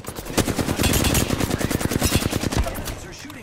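Rapid automatic gunfire from a video game battle, dense bursts of loud shots packed together for several seconds, then tapering off, with faint in-game voice callouts underneath.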